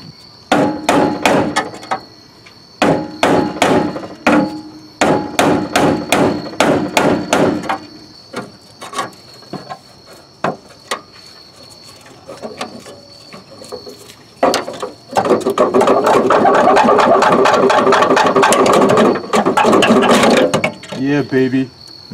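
Sharp metallic hammer strikes on a chisel against car spot welds come in rapid bursts with pauses, followed by a long, loud stretch of a power drill grinding out the spot welds.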